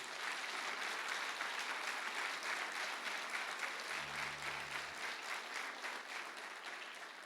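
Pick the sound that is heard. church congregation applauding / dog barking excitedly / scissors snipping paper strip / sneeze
church congregation applauding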